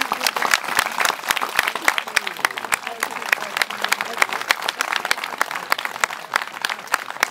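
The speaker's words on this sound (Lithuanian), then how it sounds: "Aplodismentai" An audience at an amateur theatre festival in Bajorai, Lithuania, bursts into sustained applause, dense overlapping claps from a sizeable crowd held at an even, lively level throughout.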